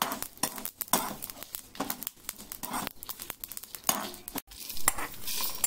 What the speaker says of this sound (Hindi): तो बस हल्का इसको 1 मिनट तक ड्राई रोस्ट कर लेने के बाद में